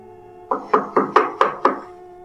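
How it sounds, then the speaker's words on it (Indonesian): Knocking on a house door in a horror story setting: six sharp, evenly spaced raps, close and fairly loud, with quiet before the first. "Baron mengetuk pintu rumah itu."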